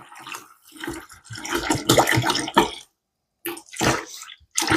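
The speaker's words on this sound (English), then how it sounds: "So what we're going to do is pour this water in." Water splashes and gurgles as it is poured into a mead-making vessel, loud and close, in uneven bursts with a brief pause before pouring resumes.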